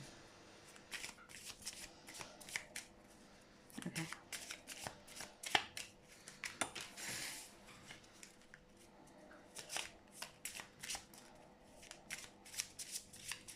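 A tarot card deck is handled and switched, giving a flurry of quick crisp card riffles and slaps in uneven bursts, close and fairly quiet.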